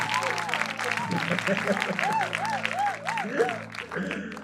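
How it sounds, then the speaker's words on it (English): A church conference audience claps in a steady wash of applause, with a voice calling out over it and a low instrumental drone sustained underneath. "give a clap offering. Give a clap. Oh, the louder."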